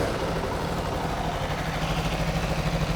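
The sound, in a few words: Aprilia RSV4 superbike engine idling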